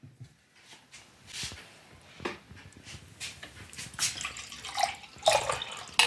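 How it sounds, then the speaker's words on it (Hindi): Water is poured and strained into a kitchen vessel, giving splashing, trickling bursts that build and grow louder toward the end, with no talking. "तो इसे एक बर्तन में आप छान लीजिए।"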